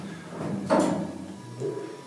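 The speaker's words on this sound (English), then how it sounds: "you'll notice that the door starts to close" Elevator door sliding shut in an apartment building, a single short rumbling slide followed by a soft thud as it settles, fairly close over quiet room tone.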